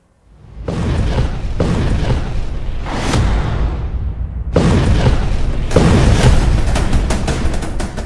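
Israeli strikes in Lebanon set off a run of heavy explosions: deep, loud booms and rumbling blasts roll one after another with barely a pause, and a fresh, sharper burst strikes midway, all with no voices.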